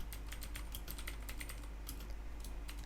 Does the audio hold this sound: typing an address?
yes